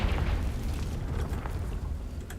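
A Confringo fire spell bursts against dry vines in Hogwarts Legacy, a loud sustained rumbling blast with crackling fiery debris that holds steady for a couple of seconds without any voice.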